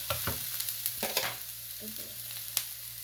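Chopped onion softening in a hot pan for potato parcels, a steady low sizzle broken by scattered scraping clicks of a spoon stirring, close and moderately quiet.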